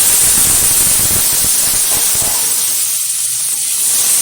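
Washed, cut potato pieces dropped into hot oil, giving a loud, close burst of hissing sizzle that slowly thins out.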